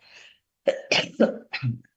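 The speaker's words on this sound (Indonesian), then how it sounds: "Batuknya muncul." A woman coughs several times in a quick, close, fairly loud series of harsh bursts, with a softer throat sound before them and no other noise around.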